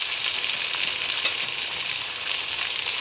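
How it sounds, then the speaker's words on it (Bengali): Washed dried shrimp hit hot oil in a pan and fry with a dense, continuous hissing sizzle, loud and close, steady for the whole stretch with no voices. "তেলটা গরম হয়ে গেছে এবারে চিংড়ি শুটকি মাছগুলো ধুয়ে পরিষ্কার করে নিয়ে এসেছি মাছগুলো দিয়ে দেবো"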